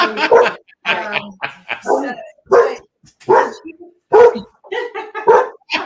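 A small dog barks in short yips between bursts of close conversation, its sharp calls mixed in with the talking voices in a home setting.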